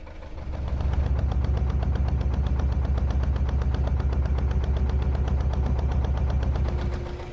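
A narrowboat's engine runs in reverse on the Ashby Canal, a loud, close, steady rapid chugging with a deep low throb that continues throughout and nothing else over it.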